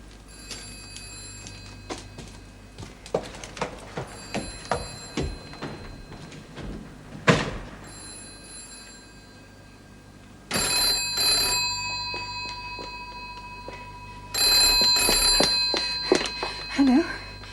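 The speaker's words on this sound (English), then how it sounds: "Sounds like the phone's ringing." A telephone bell rings in repeated long bursts with quiet gaps between, fairly loud in an indoor room, following scattered knocks and clatter and some talk.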